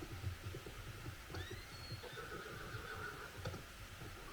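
A horse whinnies in Red Dead Redemption 2, a rising then wavering call of a couple of seconds heard at moderate distance over a steady low rumble of game ambience.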